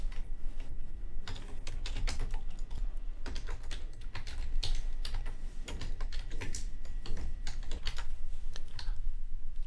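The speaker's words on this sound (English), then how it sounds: "let me write a query." Rapid clicking of a computer keyboard while an SQL query is typed, steady close-up keystrokes in uneven bursts with no one talking.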